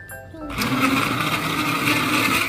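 A blender making a mango shake whirs loudly and steadily after a brief pause with a faint voice, its motor droning continuously to the end.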